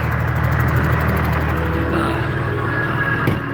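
A Mack diesel truck engine runs steadily at close range, a continuous low rumble with a faint whine rising midway and no talking.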